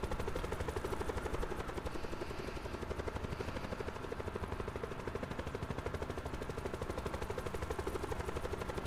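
An aircraft passes over in Call of Duty: Black Ops 4, a loud, continuous rhythmic rotor-like thumping that holds steady throughout, with no talking.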